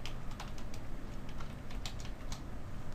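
Typing on a computer keyboard, a steady patter of light close key clicks with low background hum, no voices.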